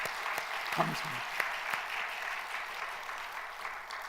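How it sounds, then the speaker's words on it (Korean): Church congregation clapping for the choir at a Christmas service, a fairly quiet, steady patter of applause with a few louder claps and a brief spoken voice over it. "우리 박수 한번 쳐드리십니다."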